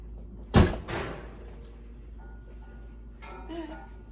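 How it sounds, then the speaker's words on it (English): A sharp clunk of an oven door opening, followed by a softer rattle of pans over low background hum, with faint voice-like sounds near the end. "Let's open up the oven."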